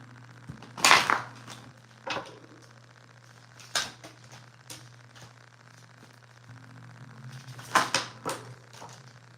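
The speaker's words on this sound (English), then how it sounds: "Let me give this a good shuffle." Tarot cards shuffled by hand in a few quick riffling bursts, crisp and close, separated by quiet pauses over a low steady hum.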